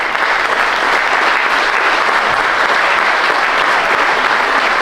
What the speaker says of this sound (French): je vous demanderai de les applaudir aussi énormément